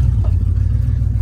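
A cheap used two-wheel-drive Dodge truck out mudding, its engine running in a steady, loud low rumble with a slight rev, heard close and continuous with no talking.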